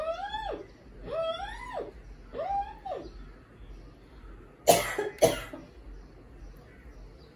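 A woman coughs several times during a peacock-call vocal exercise for high pitch: three rising, arching sung calls come first, then two sharp, close coughs in quick succession, followed by quiet room tone.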